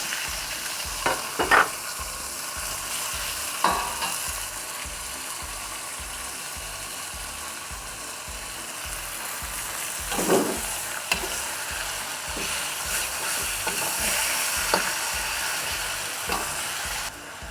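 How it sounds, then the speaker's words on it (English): Minced pork frying in a pan for classic zongzi filling, a steady close sizzle with rhythmic scraping and stirring strokes, a few louder clanks of the spatula against the pan, no talking. "Okay, we add in the pork, the minced pork"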